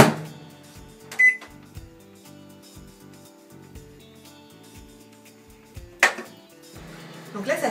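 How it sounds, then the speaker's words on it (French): A microwave oven runs in grill mode while cooking garlic, tomato, ham and mozzarella toast, a quiet steady hum with faint ticks and two louder clicks or clunks partway through. "on va le faire cuire en fait pendant 5 minutes sur le mode grill"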